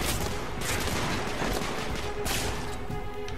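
Sustained gunfire from the video game The Order: 1886 rattles in dense, continuous bursts with a couple of sharper cracks, loud and close, no talk over it.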